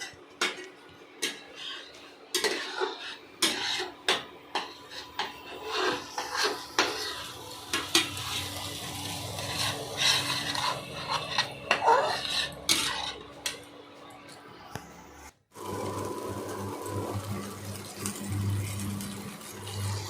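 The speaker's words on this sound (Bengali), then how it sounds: "এরপরে আমি পোস্তটা দিয়ে দিলাম ওর মধ্যে পোস্ত বাটাটা দিয়ে সেটাকে ভালো করে কষালাম" Spice paste sautéed with poppy seed paste in a pan for Kashmiri aloo dum: repeated close spatula scrapes and clinks against the pan over a soft sizzle, then a quieter steady frying hum.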